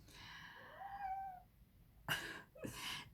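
A fussy house cat meows indoors: one drawn-out rising meow, then two shorter, sharper meows after a pause, fairly close and at moderate volume with no talk.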